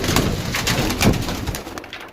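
Pigeons cooing on a rooftop loft holding about 145 birds, a steady close murmur of soft repeated coos filling the short stretch with no talking.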